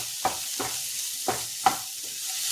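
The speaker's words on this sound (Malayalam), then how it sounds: "രണ്ട് മൂന്ന് വേപ്പിലയും കൂടി ഇട്ട് കൊടുക്കേ." Curry leaves dropped into a hot pan for a mango curry, giving a steady background sizzle with a few sharp crackles and pops spaced across the moment, no talking.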